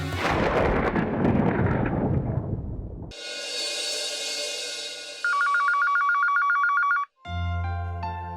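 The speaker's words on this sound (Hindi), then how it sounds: "फोन उठाओ, घंटी बजत बा।" A loud electronic telephone ring starts partway through, a repeating trilling tone after a rumbling noisy stretch, briefly stopping then resuming.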